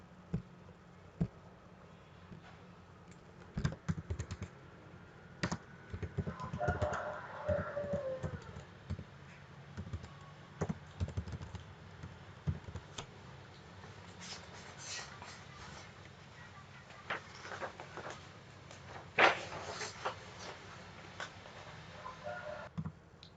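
Scattered computer keyboard clicks, including a Ctrl+S save shortcut, come as irregular taps and short bursts of typing over a quiet room background, fairly close and soft.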